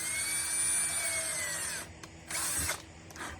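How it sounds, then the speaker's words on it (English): A power drill bores into a rattan stick with a steady high whine for nearly two seconds, then stops, with a few shorter bursts of drilling afterward. "let me drill it first"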